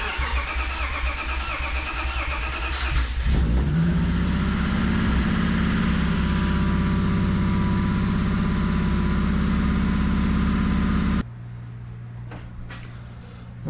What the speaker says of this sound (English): I want to try to start the engine real quick, see if it'll run